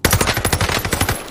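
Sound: Cooper Carbine gunfire in video game Warzone Pacific

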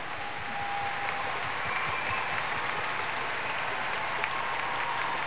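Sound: audience applause for the conductors

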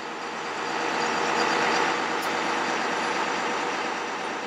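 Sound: International 4300 bucket truck engine running, PTO engaged

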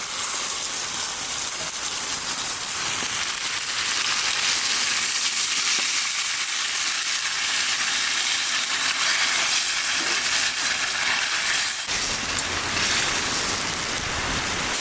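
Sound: fish being sautéed with spices in a pan

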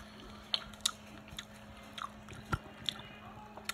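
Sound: chewing crunchy half-ripe mango

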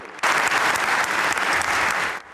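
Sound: audience applause after the Ukrainian president's speech

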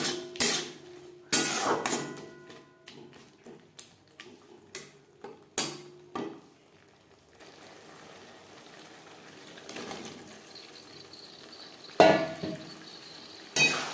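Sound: potatoes stirred into frying spice paste in a pan

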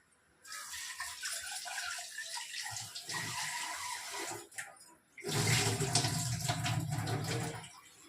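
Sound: washing tamarind in water for fish curry

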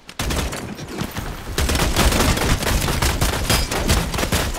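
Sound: gunfire in the video game Bloodhunt

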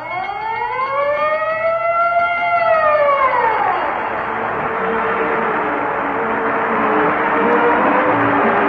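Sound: siren and bell

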